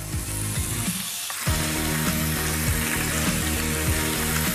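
Parma ham frying until crisp in a hot pan, with a continuous bright sizzle and crackle and a short dip in intensity before the frying surges back steady.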